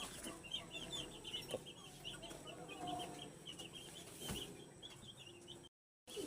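A large gamefowl rooster clucks repeatedly in a farm setting, a soft, rapid run of clucks heard faintly amid background noise.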